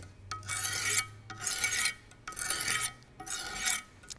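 A kitchen knife is drawn repeatedly over a 200 grit stone on a Wicked Edge precision sharpener, giving four rasping strokes in a steady back-and-forth rhythm, close and moderately loud, with short pauses between passes.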